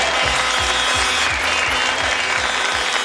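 A French television studio audience applauds on a variety show. The broad, steady crowd noise runs under a regular pounding beat that repeats several times.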